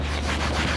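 A rag rubbing cleaner into leather car upholstery, a close, dense scrubbing swish with a quick back-and-forth rhythm over a brief stretch.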